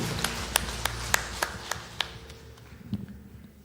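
Congregation clapping during a Korean church Sunday worship service, a run of distinct sharp claps spaced roughly evenly, moderately close over a low room hum, fading out toward the end.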